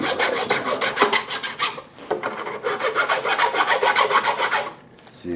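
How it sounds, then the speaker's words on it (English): A metal file with the teeth on its edge ground off rasps steadily against wood in rapid back-and-forth strokes, loud and close, with a short pause midway and a brief stop near the end. "This file has had its teeth on the edge ground off."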